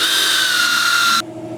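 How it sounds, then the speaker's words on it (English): Power buffer polishing the paint on a 1968 Mustang, a steady loud whirring drone that stops abruptly near the end, leaving a softer low hum. "you want to make sure that the buffer is going off the panel as opposed to coming around"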